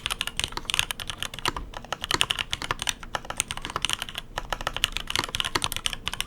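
Rapid, uneven clacking of keys on a custom mechanical keyboard during a typing sound test, crisp and close with no voices.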